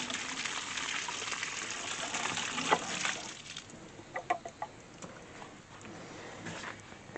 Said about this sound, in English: We're just going to water it in good.